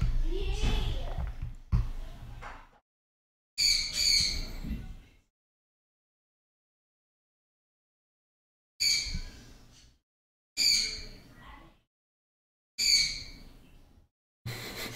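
A pet bird gives loud, harsh squawks in separate bursts with silent gaps between them, close to the listener and starting after a person speaks briefly.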